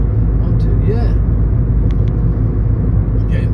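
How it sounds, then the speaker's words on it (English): Cars drive past on a street in the town of Castelo Branco, a steady loud rumble of engines and tyres close by with no clear gaps, while brief high clicks and rattles come and go. "Look at this, 4 cars with me."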